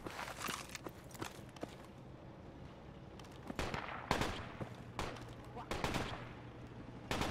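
Gunfire crackles in the Project Reality video game in a few sharp bursts of shots, fairly faint and distant, mixed with quieter thumps and footstep-like sounds.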